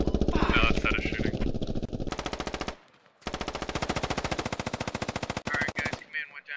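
A teammate fires a machine gun in the military shooter Squad, in long loud bursts of rapid rhythmic shots with one brief pause. Voices come over the gunfire near the start and end.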